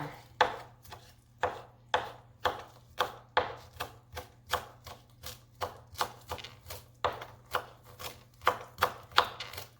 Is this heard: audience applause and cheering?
no